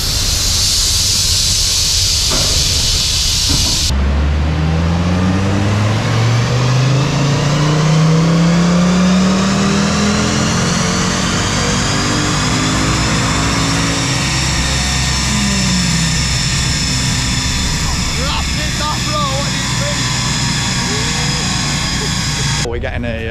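A standard Ford ST on a dyno at a tuning centre, its engine revving and rising in pitch through a long sustained run, loud and close with hissing and a steady roar throughout.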